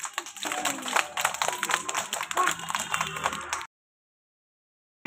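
At a school Teachers' Day prize-giving, an audience claps hands in a busy, uneven patter for a few seconds before it cuts off abruptly into silence.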